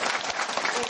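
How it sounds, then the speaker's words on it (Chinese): Short burst of dense studio-audience applause from a talk show, steady and loud with no gaps, many hands clapping together close by. "这时候应该要掌声鼓励一下"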